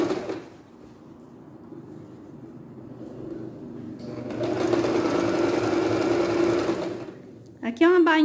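A sewing machine stitches a plain hem on a thick blouse fabric, its motor whirring steadily and rising in speed midway before stopping, followed by a brief voice at the end.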